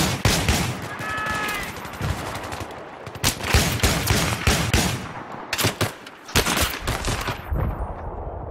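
Rapid shotgun blasts in a Battlefield 3 multiplayer match, loud bursts of gunfire repeating in quick clusters with short gaps, dense and close throughout.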